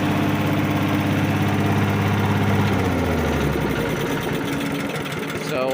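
A small engine, freshly fitted with a new carburetor and running strong, holds a steady, loud droning idle close by for several seconds, with the pitch shifting slightly partway through.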